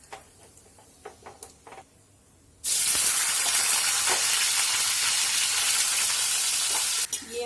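Cauliflower tipped into hot oil seasoned with asafoetida bursts into a loud, steady sizzle that holds on after a few quiet kitchen clatters, in a traditional Mithila home kitchen.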